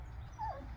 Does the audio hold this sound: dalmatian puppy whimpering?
yes